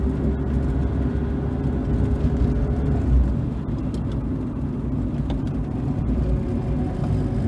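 A 1979 Mitsubishi Colt Mirage 1400 GLX drives along with a steady low engine drone and road rumble from inside the cabin, the tone easing slightly through a gear change midway, no one speaking.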